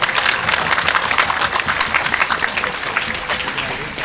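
Audience at an Islamic religious talk clapping loudly, a dense burst of applause that starts strong and gradually thins and softens over a few seconds.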